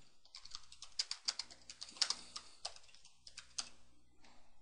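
Rapid clicking of a computer keyboard as a file name is typed, a quiet, close run of uneven keystrokes with a few sharper taps and brief pauses.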